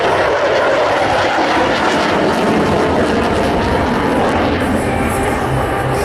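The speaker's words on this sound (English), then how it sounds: "This is the Rhino's minimum radius turn." F/A-18 Super Hornet jet roaring through a tight high-G minimum radius turn at a beach air show, a loud sustained broad rumble that shifts slightly as the aircraft passes.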